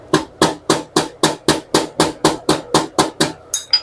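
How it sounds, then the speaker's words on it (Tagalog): A hammer pounds thick trouser fabric steadily, about a dozen evenly spaced sharp blows in a row, close and loud, each strike dull and slightly muffled. "Kailangan may martilyo tayo."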